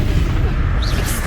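A Bombarda spell explosion from Hogwarts Legacy, heard as a heavy, booming low rumble that stays loud and sustained with a faint higher whistle-like tone passing over it.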